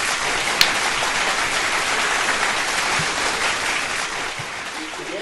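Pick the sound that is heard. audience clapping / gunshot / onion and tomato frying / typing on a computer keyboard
audience clapping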